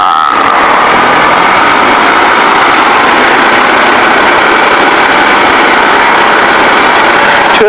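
A Piper light aircraft's piston engine runs up to 2000 RPM, a loud, steady, unbroken drone with a bright buzzing edge that holds level for the whole stretch, with no talk over it.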